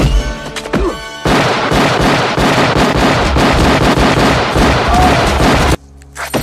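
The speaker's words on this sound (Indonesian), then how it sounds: "Terjadi adu tembakan di sana dan pada akhirnya si Raja Mumi tewas diberondong peluru." Dense, sustained gunfire from a film shootout: rapid overlapping shots and bursts crackle loudly for several seconds, then cut off abruptly to near quiet, with no talking.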